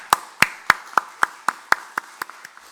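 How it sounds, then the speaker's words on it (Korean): A small church congregation claps in a Sunday worship service, with about eleven sharp, separate hand claps in a steady rhythm, close and fairly loud, slowing and fading toward the end. "큰 박수 한번 위로와 격려 부탁드립니다"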